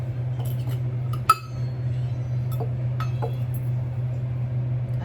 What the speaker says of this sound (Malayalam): അപ്പോൾ നമുക്ക് ഓരോന്നായിട്ട് കുപ്പിയിലേക്ക് ഇടാം കേട്ടോ.